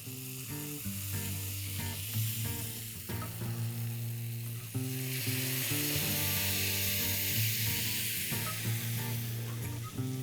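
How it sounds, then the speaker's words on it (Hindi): Marinated chicken legs for burra kebab sizzle loudly on a hot grill, a steady frying hiss over low hum, with intermittent scraping and clinks as pieces are placed and moved. "अब एक एक करके हम ये मैरिनेटेड चिकन लेग उठाएंगे और ग्रिल करेंगे।"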